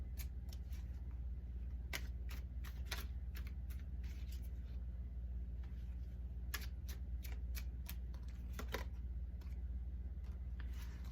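A deck of tarot cards shuffled during a reading, giving faint, quiet bursts of riffling and card slaps at irregular intervals over a low steady background hum.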